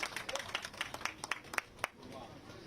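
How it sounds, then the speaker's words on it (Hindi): Scattered audience clapping at a music students' event in Hariharpur, with sharp, uneven claps that fade out after about two seconds into a faint room hum. "जोरदार तालियां हो जाएं।"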